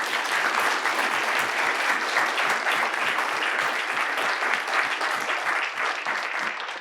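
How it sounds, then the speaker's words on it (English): Audience at a public lecture on Iceland claps steadily for the guest speakers, a dense, sustained round of applause with no talk over it. "If we can have one more round of applause for our guests"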